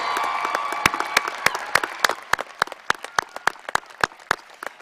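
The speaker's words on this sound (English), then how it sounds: "Let's give them the loudest round of applause that Sailor Nation can have." Audience applause at a high school commencement ceremony, starting as a loose wash of clapping and thinning into distinct, sharp individual claps from nearby hands as it tapers off.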